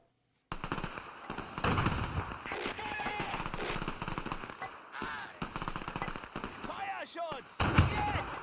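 Sustained MG42 machine gun fire in the WWII strategy game Men of War II, set during a 1944 German defense of a Normandy road, with dense overlapping bursts and battle noise running nearly throughout, alongside a voice talking.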